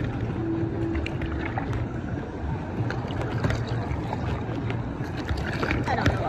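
A boat being paddled through water near a beach: a steady rush of water and wind noise, close to the microphone, with paddle swishes running under the whole stretch.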